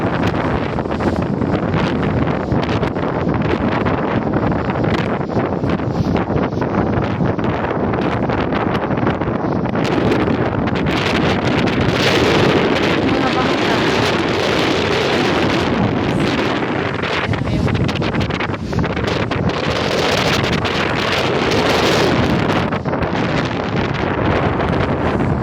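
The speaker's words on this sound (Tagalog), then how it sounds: "grabe, lakas ng hangin." Strong wind by the sea roars steadily across the microphone for the whole stretch, a loud broadband rush with gusts, likely with surf underneath.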